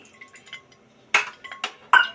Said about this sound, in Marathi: पातेलं मी गॅसवर ठेवलं आहे